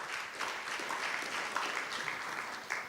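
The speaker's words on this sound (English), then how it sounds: "A big round of applause for them also." A crowd applauds at the KRA Summit 2024, a broad, continuous wash of many hands clapping at even volume throughout, with a few sharper claps standing out near the end.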